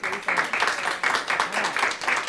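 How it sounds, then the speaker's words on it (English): An audience gives a round of applause at an elementary school spelling bee, with clapping in uneven bursts and a voice talking briefly over it. "Let's have one more round of applause."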